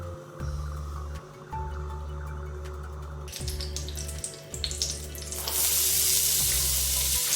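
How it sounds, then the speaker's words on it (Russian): Chopped onion frying in heated butter for a homemade chicken noodle soup gives a steady close sizzle over a low hum, with the crackle growing denser and louder toward the end. "Лучок обжариваю до легкой золотистости."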